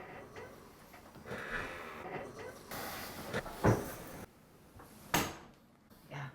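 A cabinet door in a compact Manhattan apartment shuts against a magnet catch, giving two sharp close clicks or knocks a second or so apart over low room noise and faint movement.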